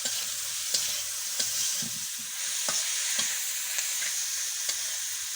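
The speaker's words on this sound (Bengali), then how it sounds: "এই যে লাকড়ির চুলায় রান্না করতেছে" Onions sizzle steadily as they fry for a fish curry in a pan over a wood-fired stove, with repeated scraping stirs cutting through the constant crackle.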